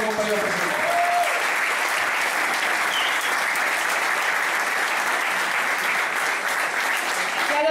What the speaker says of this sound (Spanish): Un aplauso, por favor, para todos los compañeros presentes.